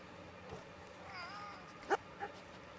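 Cat in the video game Red Dead Redemption 2, giving a faint, soft meow and a short second call above a quiet game background, with no voices.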